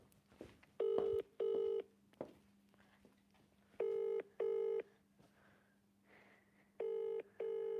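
Paired electronic telephone tones repeat three times with pauses between, over a faint steady hum and quiet background rustle.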